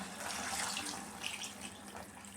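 Water pours steadily into a pot of sorakaya (bottle gourd) sambar, about two glasses, a continuous close splashing rush with no talk.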